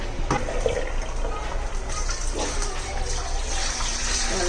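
Water gushes steadily into a container being filled for dyeing faded jeans, a continuous loud rushing stream with a voice speaking over it.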